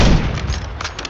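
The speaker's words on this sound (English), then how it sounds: "This is a 50 cal, that's why it sounds like" Heavy .50 caliber gunfire in the video game Warzone, a loud booming burst of shots up front followed by a rumbling tail and a few fainter distant reports.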